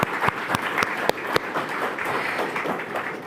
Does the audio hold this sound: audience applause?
yes